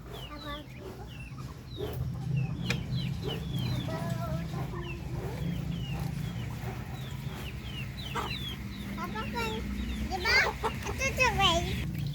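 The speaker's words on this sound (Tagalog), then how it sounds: "Laki na ng mga sisiw natin dito." Chickens and many chicks of different colors cluck and peep in a farmyard, a steady chorus of close calls and cheeps while a person speaks throughout.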